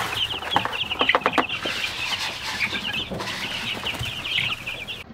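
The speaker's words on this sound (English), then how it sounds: "I'm putting 25 of these baby chicks into each one of these brooders" Baby chicks in a brooder chirp and peep continuously, with a dense chorus of high calls and scattered louder cheeps throughout, close by and without talk.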